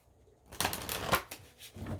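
Angel cards are shuffled by hand, a brief flurry of papery riffling and flicks starting after a short quiet moment, close and moderately loud.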